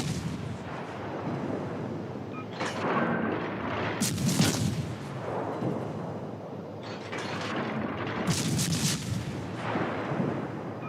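Torpedoes launch from a warship in a video game, with several heavy mechanical thumps and rushing bursts coming in two clusters over a rumbling engine-like background, fairly loud and close, no talk.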